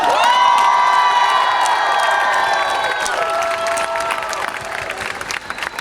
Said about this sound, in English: Let's give ourselves a round of applause.